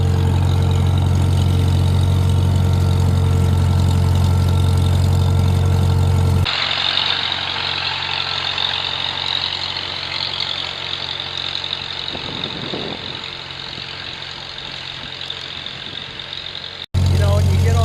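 A Farmall Super MTA tractor engine runs steadily throughout, a loud, continuous low idle-like rumble with a mechanical knock, near and alone, the tone shifting partway as the load changes.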